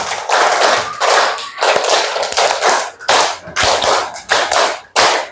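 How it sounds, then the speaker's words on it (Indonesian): A class of children clapping together in a classroom exercise, five claps repeated three times, coming through as loud, sharp bursts of unison hand claps separated by short pauses. "Oke, tepuk 5 3 kali."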